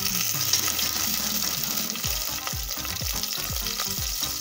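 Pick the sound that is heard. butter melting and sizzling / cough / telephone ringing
butter melting and sizzling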